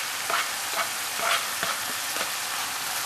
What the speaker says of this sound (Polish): Całość smażę razem tak długo, aż mięso straci całkowicie surowość, a cebula się zeszkli.